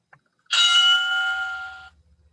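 A workout timer bell rings once during a bootcamp session, a bright sustained ding with clear ringing overtones that holds for about a second and a half before cutting off, loud and close with no talking over it.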